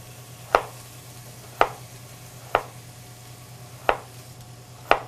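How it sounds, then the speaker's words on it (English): Vegetables being cut on a board for sweet potato chowder, five crisp, evenly spaced knife chops about a second apart, close and clear over a quiet background hum. "We have a lot of cutting today for Joel."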